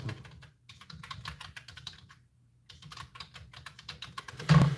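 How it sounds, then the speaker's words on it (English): Computer keyboard typing in bursts of quick, close key clicks, with a short pause near the middle and a louder clatter at the end, heard alone without voices. "I'll type it in now anyway"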